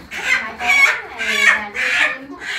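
Free-range hill chickens cluck in repeated bursts, four or five close, loud calls coming one after another in an uneven rhythm.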